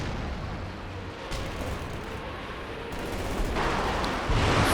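An artillery barrage pounds the battlefield in the strategy game Company of Heroes 2, a dense run of booming blasts and crackling gunfire over a constant low rumble, growing heavier in the last second, with no talk.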